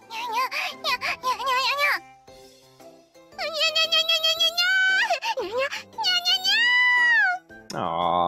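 A string of high, drawn-out cartoonish meows from a catgirl character in the game Nekopara, several in a row with short pauses between them, loud and close, sounding synthetic.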